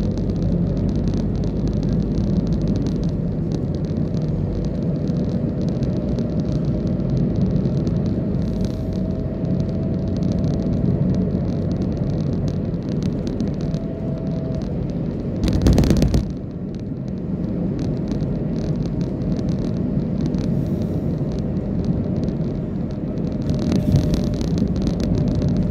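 Street traffic on Jalan Lenteng Agung near the station, where angkot minibuses wait for passengers: a constant low rumble of passing cars and motorbikes, with a brief louder burst midway and no talk.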